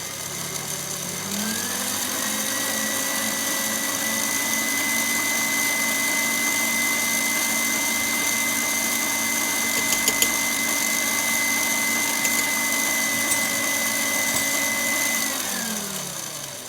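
An electric mixer beats coconut chocolate cupcake batter at increased speed, giving a steady, close motor whine that rises as it speeds up, holds for the length of the clip, then winds down near the end.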